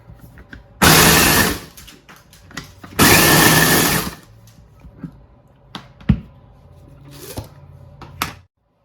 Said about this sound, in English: we're just grinding them up to a powder so it looks kind of like coffee grounds